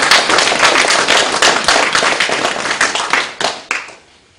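A crowd claps together loudly and close for several seconds, a dense burst of hand claps that breaks into a few final claps and stops abruptly.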